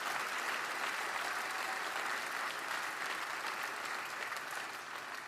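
Sustained applause from an audience at a political campaign rally in France, steady dense clapping throughout that eases slightly toward the end, with no voices over it.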